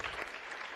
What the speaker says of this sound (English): we can give Christine a huge round of applause for being the next SANE president.